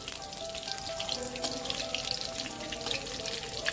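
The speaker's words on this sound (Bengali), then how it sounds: "আর কিছুক্ষণ ভাজলেই এই ভাজাটা আমাদের হয়ে যাবে।" Paneer pakoras deep frying in oil over medium heat give a steady, close crackling sizzle with bright popping bubbles that continue without a break.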